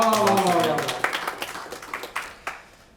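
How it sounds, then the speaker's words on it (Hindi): An audience at a Hindi-Urdu poetry recital claps: a voice calls out over the start, then scattered individual claps ring out, thinning into sparse, fading hand claps. "तालियां हो जाए"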